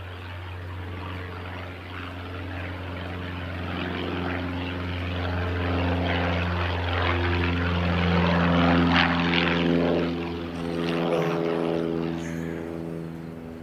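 A propeller airplane comes in to land on crosswind runway 29 at Christchurch airport, a steady droning engine hum that swells as it nears and then eases off, heard outdoors at a moderate distance.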